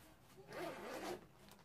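A zipper runs along a hidden lid compartment on an EMS responder bag, one short rasping pull lasting about half a second, close and clear against quiet room tone.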